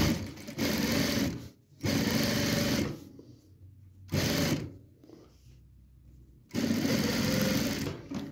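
Sewing machine stitching a French seam in fabric, running in three or four loud close bursts separated by short pauses, with no speech.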